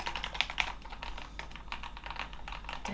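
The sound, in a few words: typing on Keychron K8 Pro mechanical keyboard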